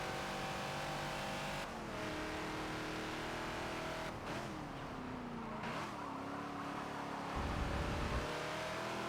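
A Ford Falcon XB's engine revs and winds out on the Watkins Glen short circuit in Forza, a steady close mechanical drone that rises and falls in pitch with gear changes, heard alone.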